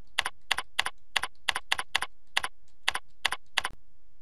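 Crisp, isolated keystrokes on a computer keyboard while a report name is entered, about a dozen evenly spaced taps close to the mic in a quiet room.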